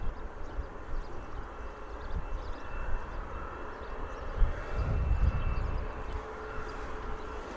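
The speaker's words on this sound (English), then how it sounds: "There's our Ryanair Boeing 737 taxiing down as well." A Ryanair Boeing 737 taxiing at Bristol Airport, heard as a distant, steady low engine rumble that swells slightly partway through, with faint ambient outdoor noise.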